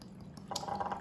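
Apple cider vinegar with its mother is poured into a jar of vegetables in a short, soft trickle over faint background hum.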